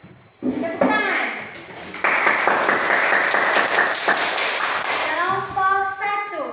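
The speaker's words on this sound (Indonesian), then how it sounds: "Tepuk tangan." A classroom of pupils breaks into sustained applause, dense clapping building suddenly and holding for several seconds before children's voices rise as it fades.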